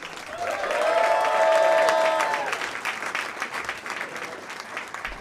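Comedy club audience bursts into applause with whoops and cheering, swelling quickly then tapering into scattered clapping.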